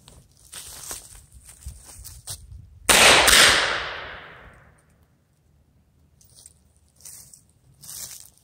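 A Colt Police .32 revolver fires a single shot of old ammunition: one loud, sharp crack with a long ringing decay, preceded by quiet handling noises and followed by a few light clicks.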